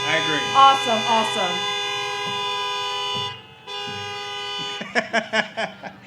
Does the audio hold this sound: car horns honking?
yes